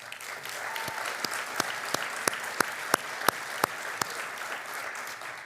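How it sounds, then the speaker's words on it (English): An audience at an award ceremony applauds an honoree with steady clapping, while a few louder individual claps stand out at a regular rhythm above the crowd. "Please give her a round of applause"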